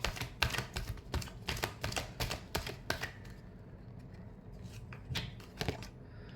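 Tarot cards being shuffled by hand, a rapid series of crisp riffling bursts close up, the flutter breaking into sparser taps toward the end, with no voices.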